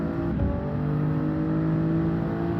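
Toyota Supra racing at Mount Panorama in Gran Turismo 7, its engine holding a loud, steady high-revving drone with a sustained tonal whine throughout.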